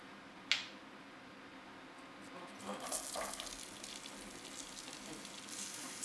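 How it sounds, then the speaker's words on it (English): Chopped onion, carrot, celery and garlic frying in olive oil, a faint steady sizzle rising slightly after a sharp clink near the start, heard alone without talk. "We're going to cook that lovely chopped onion, carrot, and celery along with our garlic."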